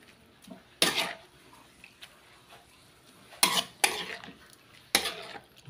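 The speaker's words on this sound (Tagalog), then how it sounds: "Pasensya na kayo, nakikisabaw yung kawali." A spatula knocks and scrapes against a metal wok (kawali) while food is stirred, a few sharp clanks spaced out over a faint background hiss.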